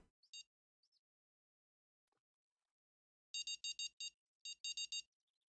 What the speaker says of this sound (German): ich muss die Spinnrute nur in die Hand nehmen und dann geht das Gepiepe sofort los.